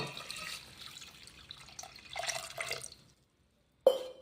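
Water trickles and splashes over jaggery in a vessel for a few seconds, then falls silent before a brief sharp clink at the end.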